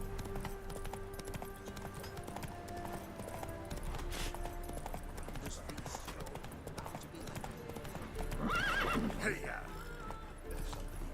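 Roach, the horse in The Witcher 3, clip-clopping steadily along in the game, then letting out a loud whinny near the end, while a person talks over the in-game sounds.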